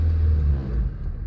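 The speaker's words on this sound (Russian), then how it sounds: "Быстро ногу на газ, отпускай сцепление." Car engine during a city driving lesson as the gas is pressed and the clutch released, a low steady rumble that swells slightly then eases, close and without talk.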